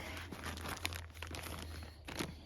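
Faint, close crinkling of a plastic packet, soft irregular rustles over a low steady hum.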